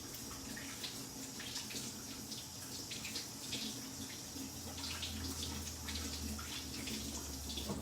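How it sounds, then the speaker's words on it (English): Steady stream of running tap water while hands are washed at a kitchen sink during cooking, a continuous soft splashing hiss with a low hum joining partway through. "let me quickly wash my hands"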